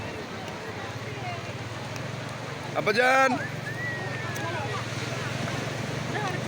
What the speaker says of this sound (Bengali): কি সুন্দর সমুদ্রের ঢেউ